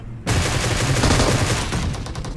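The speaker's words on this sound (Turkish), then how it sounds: "Abi götümüzde bomba patlıyor" A bomb blast in PUBG Mobile erupts suddenly and loudly up close, followed by a dense rumbling roar with crackling debris that stays heavy for about two seconds.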